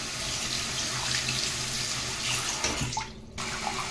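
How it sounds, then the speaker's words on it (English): Fresh tap water running into a sink to clean an airbrush, a continuous close splashing stream that briefly changes near the end, with no talking. "And run your fresh water."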